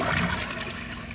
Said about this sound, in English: I'm going to give this a second flush and see how much it takes.